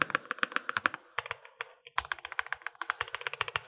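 Clacky large keys, such as left shift and enter, on an ROG Azoth Extreme mechanical keyboard are pressed in a quick, regular run of crisp clicks, pausing briefly midway before resuming.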